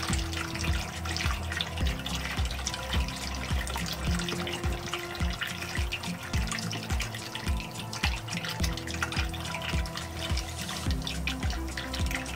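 Steady running water pours continuously into a turtle and frog enclosure, with a soft rhythmic dripping and splashing pattern throughout and no voices.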